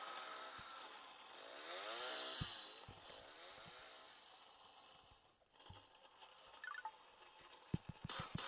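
Chainsaws revving in the Roblox survival game 99 Nights in the Forest, a buzzing motor whine that rises and falls over several seconds, mixed with clicks and other game effects at moderate level.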